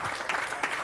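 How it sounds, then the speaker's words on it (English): Audience at a panel on building wealth equity in the Black community applauding to welcome a speaker, a short burst of crowd clapping, fairly close and steady with a couple of louder swells. "Let's give him a round of applause."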